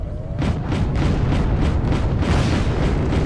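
A missile hit in the Wargame Airland Battle video game comes through as a loud, sustained low rumbling blast with rapid crackling pulses, dense and close, and no voices over it.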